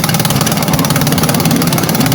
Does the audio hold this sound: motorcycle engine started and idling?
yes